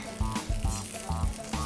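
Chicken balls frying in a pan give a steady close sizzle that swells in short repeated bursts about every half second, with no talk over it.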